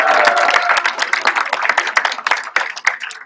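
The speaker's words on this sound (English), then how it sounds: "So can you give a big round of applause to them?" A crowd at a space apps challenge closing ceremony claps for the participants, a loud, busy burst of applause that gradually thins toward the end.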